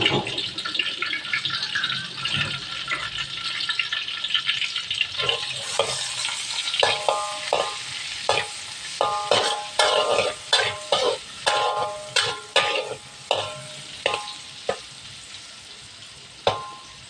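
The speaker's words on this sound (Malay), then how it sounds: "Ni goreng udang." Hot oil sizzles and crackles, then sharp spattering pops and scraping stirs come in bursts as shrimp fry in a pan nearby.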